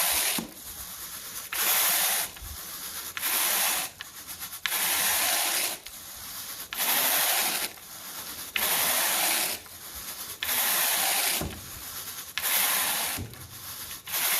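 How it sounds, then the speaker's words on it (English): A Scotch-Brite pad scrubs old, worn carpet in an empty house, making rough hissing rubs in repeated back-and-forth strokes of about a second each, separated by short pauses, close and loud, with no talking. "Ended up having me do a little bit of Scotch-Brite."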